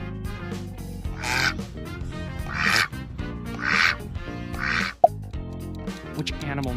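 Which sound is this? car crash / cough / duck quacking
duck quacking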